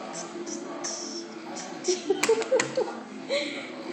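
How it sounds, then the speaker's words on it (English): A small child claps her hands during a family aloha barbecue, giving a few soft, uneven claps in a short burst beneath ongoing voices. "Clap your hands, clap your hands, clap your hands, clap your hands"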